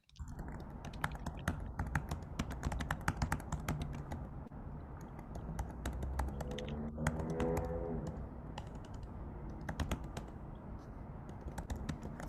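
Continuous close-up typing on a computer keyboard, quick irregular key taps in bursts with brief pauses, fairly quiet and with no talking over it.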